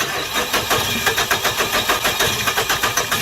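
A 2007 Nissan Frontier with a crank-no-start fault turns over on the starter without catching, a steady rapid cranking rhythm with regular pulses, close and loud with no voices.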